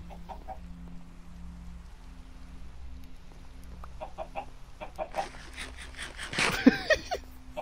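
Chickens clucking in a video game, several soft scattered clucks over a faint steady rain-like background, growing busier and louder near the end, with no clear talk.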